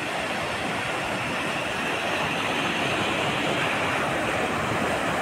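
Waves break along the rocky stretch of Palshet beach in Guhagar at sunset, a steady dense roar of surf with no pauses, close and fairly loud.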